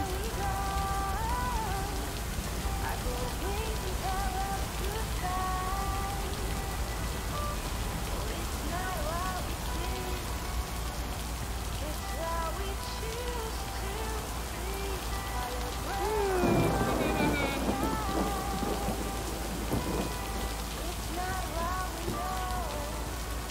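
Steady rain pours in a thunderstorm in the video game Lake, a dense, even hiss of drops throughout, with a brief louder crackling swell midway that may be a thunder rumble.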